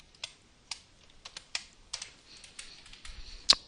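Keys clatter on a computer keyboard in a series of sharp, irregular clicks, close and clear in an otherwise quiet room, ending with one louder tap.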